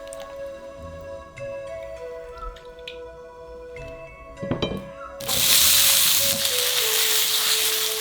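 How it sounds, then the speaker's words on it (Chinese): Ganba mushrooms from Yunnan, pulled apart piece by piece, being rinsed repeatedly in clean water: soft drips and splashes give way to a loud, steady rush of running water in the second half, with no talking. "再用清水反复清洗"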